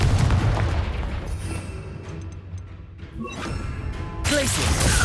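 Spell explosions from Confringo and Bombarda in the Hogwarts Legacy video game: a string of loud booming blasts and crackling impacts over dense battle noise, with a big burst near the end.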